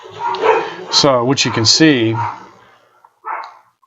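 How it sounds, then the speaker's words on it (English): Dogs bark and yip at a FedEx delivery person in a short burst of loud, near barks, with someone talking over them and a final bark after a pause. "They're barking at a FedEx person."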